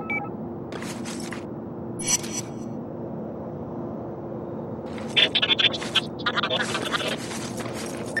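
An encrypted audio message played from a portable drive in the inFamous video game: bursts of harsh, garbled digital chirps and scrambled tones come in irregular clusters over a steady low hum.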